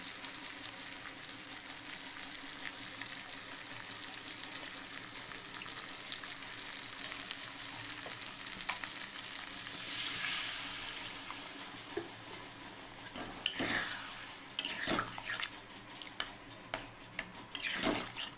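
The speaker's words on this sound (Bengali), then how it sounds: "এবার আমি জলটা দিয়ে দেবো" Water poured into a hot pan for dal gives a broad steady sizzle and hiss that builds, then breaks into a few sharp spits and crackles toward the end, close up with no talking.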